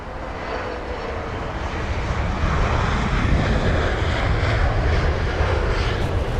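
Jet engines of a 21-year-old British Airways A320-200 at London Heathrow, a steady broadband roar that swells slightly and holds loud and close, with no talking.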